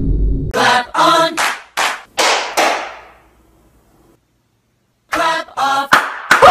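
Sharp hand claps in quick bursts, a cluster of several, then a short silence, then another rapid series of claps close by.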